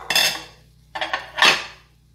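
A pot of freshly popped sweet colored popcorn is shaken hard in three quick bursts. Each burst gives a loud metallic rattle and scrape from the kernels and lid, with short pauses in between.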